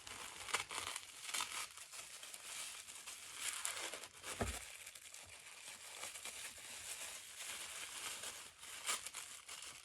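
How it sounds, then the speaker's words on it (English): Close, crinkly rustling of plastic packaging being handled and pulled apart, in irregular bursts with a few sharper tearing moments. "So excuse the rustling again."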